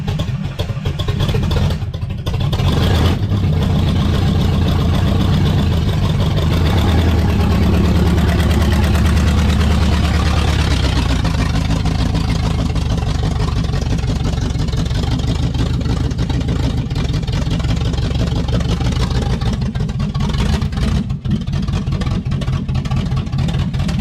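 A spare-parts 350 engine with an untuned Chinese carburetor runs loud and close, rumbling at a lumpy, steady idle with a raised rev early on before it settles.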